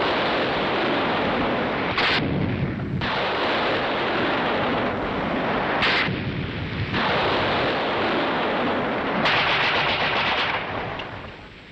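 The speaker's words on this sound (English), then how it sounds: "Mortars are brought up, mounted, and go into action." Mortars firing in 1961 military action against a pillbox, a loud dense barrage of blasts and rushing noise with rhythmic bursts and brief lulls, all under a constant roar.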